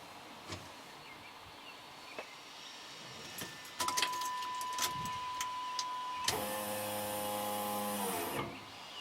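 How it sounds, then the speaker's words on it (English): An electric fuel pump in a Firebird with a 5.3 LS swap and braided fuel lines starts when the key turns. Keys jangle first and a steady tone sounds, then a loud, even electric whine runs for about two seconds before cutting off. "Turn on the key and the pump comes on."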